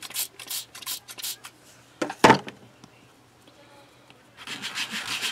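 Soft scraping and rubbing strokes sanding polymer clay cut edges in short bursts, broken by a sharp knock midway, then a quieter stretch before more gritty rubbing resumes.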